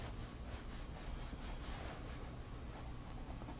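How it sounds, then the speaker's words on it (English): Steady rough scratching of pencil strokes shading on paper for a charcoal figure drawing, continuous and close, with no talking over it. "now I'm going to go under this with this direction with my pencil strokes"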